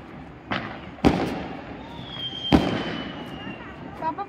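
Firecrackers bursting during Diwali in a Punjabi village: three or four sharp, fairly distant bangs spaced a second or so apart, with a faint whistle trailing between them over quiet outdoor background.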